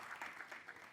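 An audience applauds the arrival of a singer on a comedy talk show stage, a brief burst of fairly faint massed clapping lasting about a second.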